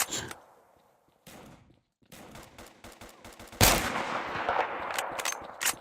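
Gunfire in the shooter game Kuboom, a few sharp shots and short bursts separated by gaps, the last stretch denser and louder with rapid fire.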